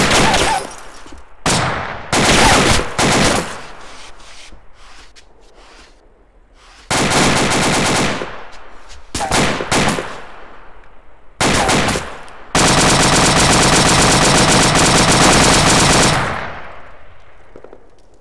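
Machine gun fire in the military shooter game ArmA 2, loud sustained bursts of automatic fire separated by short pauses, with one long continuous burst near the end and no talking.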